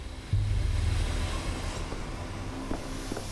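A train arriving in the Pathologic 3 video game, a deep rumbling engine drone with rolling wheel noise and a few metallic clanks as it slows, fairly close and without talk.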